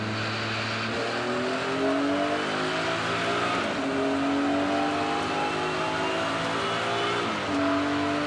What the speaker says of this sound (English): So, as I said, rolling start, Jazz gets us underway.